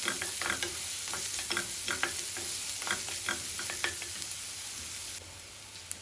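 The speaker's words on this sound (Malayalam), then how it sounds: "പിന്നെ ഒരു അനിയൻ ചോപ്പ് ചെയ്തത് ആഡ് ചെയ്യുക. അതും ലൈറ്റ് ബ്രൗൺ ആവുന്ന വരെ സോട്ട് ചെയ്യുക." Chopped onion sautés in a pan over medium flame, with a soft continuous sizzle and repeated scraping taps of a spatula stirring it nearby.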